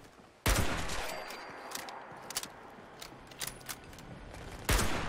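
Gunfire in Fallout 76 using .308 ammunition, with a loud sharp shot followed by a reverberant tail and scattered clicks and smaller reports, then a second loud shot at the end.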